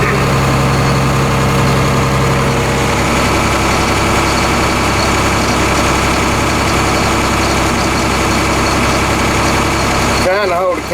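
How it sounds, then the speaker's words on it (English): An old tractor engine runs loud and close while unloading shelled corn, a steady heavy rumble with vibration throughout and a brief disturbance near the end. "this old tractor shakes a little while it's unloading"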